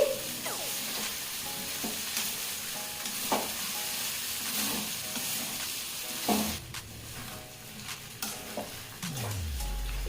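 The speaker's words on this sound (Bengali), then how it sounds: "এঁচোর আলু সমস্ত মশলার সঙ্গে খুব ভালোভাবে মিনিট দু তিনে কষিয়ে নিয়েছি" Jackfruit and potato pieces are stir-fried with spice masala, the spatula scraping and knocking in repeated strokes over a quiet sizzle, with a few louder clatters of utensil on pan and no talking.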